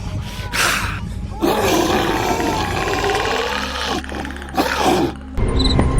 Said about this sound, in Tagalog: Parang tunog ng isang lobo at tao na parehas na nasasaktan.